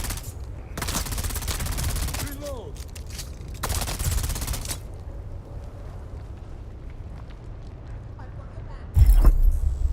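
Gunfire in the video game Dune Awakening: two sustained bursts of rapid automatic fire about a second long each, followed later by a sharp loud shot, over quiet ambient game sound with brief speech.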